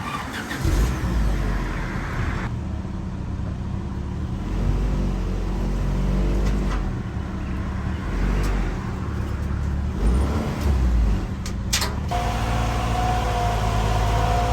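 A Honda Integra Type-R DC2 runs loud and close, its engine a continuous rough drone with a few swells in revs across the stretch, no talking over it.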